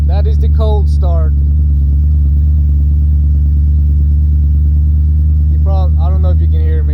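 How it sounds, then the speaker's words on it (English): An engine idles loudly after a cold start with a deep, steady droning rumble throughout, while someone speaks briefly at the start and again near the end. "That is the cold start."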